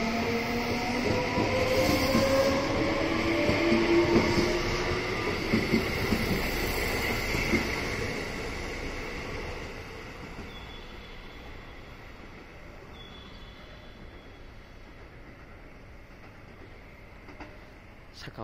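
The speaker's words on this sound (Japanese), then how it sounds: "この先カーブを描きながらこの電車は下り坂に差し掛かります" An electric train runs downhill around a curve after leaving Shin-Nagata Station, with whining motors and rolling wheels, loud at first and then gradually fading as the motor noise eases off.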